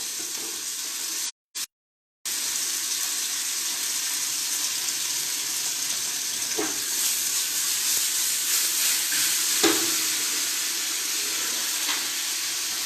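Tomatoes and tomato concasse cook in a pan with a steady, even sizzling hiss that continues throughout, broken once by a brief dropout, with a few faint clinks.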